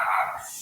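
Dogs yelping and barking in a brief, high, fairly loud burst that fades a little toward the end, heard alone with no talk.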